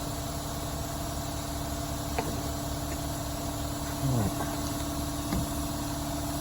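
A car engine idling with its valves tapping, a steady close mechanical hum carrying faint rapid ticking, with a few brief louder clicks and bumps and no talk.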